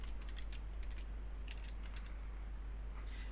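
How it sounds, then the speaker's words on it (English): Fingers tap out a short word on a computer keyboard, quiet close clicks coming in quick bursts with brief pauses, over a low electrical hum and no talking. "I'm just going to type in new scene."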